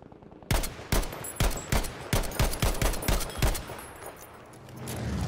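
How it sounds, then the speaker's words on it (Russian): About ten sharp gunshots ring out in quick, slightly uneven succession during a Battlefield V Pacific Storm match, loud and close, before the firing stops and a low rumbling drone swells in the background. "Кто по ним там стреляет?"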